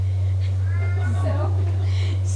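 A cat gives a wavering meow partway through, under a loud constant mains hum, with a voice faintly present at a medical conference.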